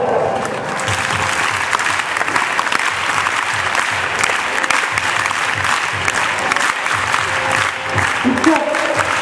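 Schoolchildren applaud together as a guest is welcomed at a school gathering. The clapping is dense and continuous across the whole stretch, with a faint murmur of voices underneath.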